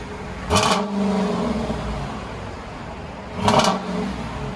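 Two short throttle blips from a Dodge Durango R/T's 3.6-liter V6, each rising quickly then settling back to a steady idle hum, loud and close with no talk.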